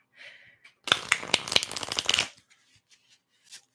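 A quick riffle of oracle cards being shuffled up close, a dense burst of crisp flutters lasting about a second, followed by a few soft taps.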